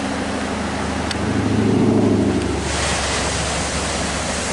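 Ocean surf washes in along the California coast beside eroded cliffs, a broad, steady roar of waves mixed with gusty wind noise on the microphone, swelling midway and then easing.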